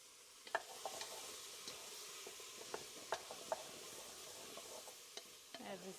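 Onion, carrots and halved potato cooking in a pot for a rooster bone broth soup, with a faint sizzle and scattered soft scraping stirs nearby, no talk.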